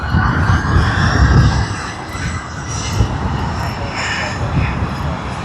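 Fiji Airways Airbus A350-900 jet airliner at Sydney Airport, a loud rumbling engine roar that swells early then settles into a steady wash, with faint talk mixed in.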